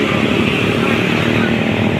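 A Honda PCX scooter engine runs steadily up close, a continuous buzzing drone with no pauses.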